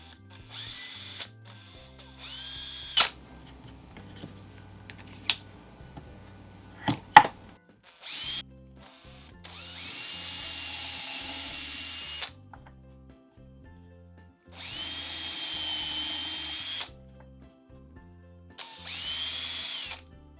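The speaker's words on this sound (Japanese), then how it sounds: "穴を開けます。 4ミリです。" A power drill boring a 4 mm hole in wood, with several short bursts of whining motor and longer sustained drilling runs separated by pauses, close and clear.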